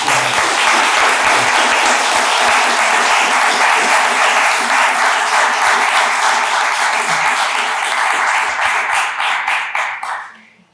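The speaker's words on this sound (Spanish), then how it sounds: "Pido un aplauso para nuestro invitado." Sustained audience applause for a guest at a poetry translation award ceremony, dense clapping that holds steady for about ten seconds before fading out at the end.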